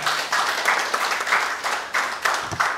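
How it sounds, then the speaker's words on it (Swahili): An audience claps through a public meeting on violence against girls, giving loud, sustained applause in rhythmic waves with no voices over it. "Makofi tafadhali."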